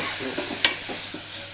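Tamarind paste poured into a hot pan of sizzling oil for a Srirangam-style brinjal bath, with a steady frying hiss, a sharp splash-crackle as the liquid hits, and faint stirring scrapes; no one talks.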